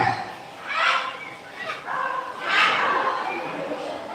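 A parrot imitates a dog, giving a few yappy bark-like calls in short bursts, close and fairly loud.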